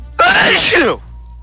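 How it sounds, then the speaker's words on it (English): A single loud, explosive human sneeze close to the microphone, a sharp burst lasting under a second that then drops away to quiet. "I sneezed myself out of my chair."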